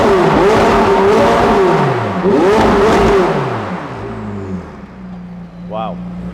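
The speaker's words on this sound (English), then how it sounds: "Let's go further up the rev range," A sports car engine is revved high up the rev range in repeated loud climbing pulls, rising and falling twice before easing off, with voices talking over it.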